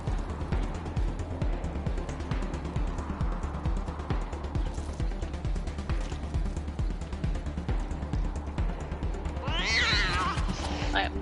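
A cat meows in a combat video game amid dense, continuous noisy action, the mewing faint and mixed into the busy game sound, with a brighter cry near the end.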